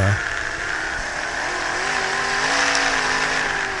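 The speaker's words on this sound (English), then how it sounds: "You hear the engines going crazy up top." Race car engines drone steadily on a track, with a continuous loud roar and rising, shifting engine pitch as the cars rev and accelerate, heard from a distance.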